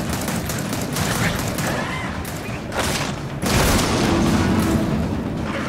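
Gunfire from the video game Gears of War 4, a dense continuous barrage of shots and booming blasts, loud and close, with a sharper burst partway through.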